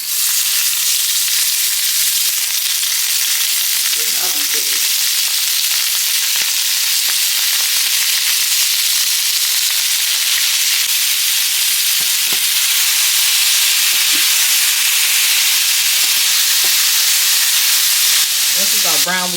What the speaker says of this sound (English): we're gonna sear these pieces of meat. We wanna make sure it's real hot